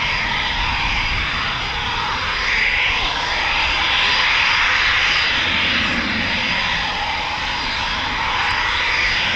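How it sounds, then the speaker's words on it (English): An RAF Eurofighter Typhoon FGR4 makes a night performance takeoff at RAF Coningsby, a loud, sustained jet roar that swells and stays powerful without letup. "Clear for performance takeoff."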